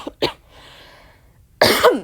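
A person coughs up close, a couple of short sharp coughs, a brief pause, then a louder, longer rasping cough at the end.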